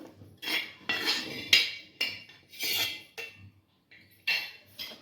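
Fresh green chilies and coriander are pounded coarsely for a tomato thecha, with about seven loud, rhythmic thuds and grinding knocks in a mortar, close by and with short pauses between strikes.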